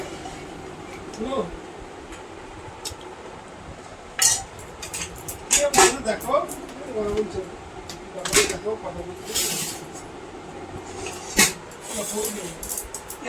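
Mutton curry is spooned from a pot into a serving dish in a home kitchen, with scattered metallic clinks and scrapes of utensil on cookware while a person talks throughout.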